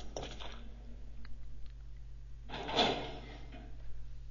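A door in the Resident Evil 3 video game opens as part of its transition sequence: one dull wooden scrape-and-thud rising midway through, over a low steady hum.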